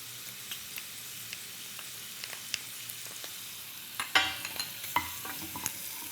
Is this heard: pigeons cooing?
no